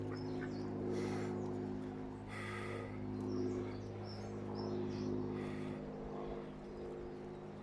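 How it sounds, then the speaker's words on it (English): Scattered soft quacks and muttering calls from several ducks in a garden sit over a steady low engine-like hum in the background. "You can see the ducks are loving the holes"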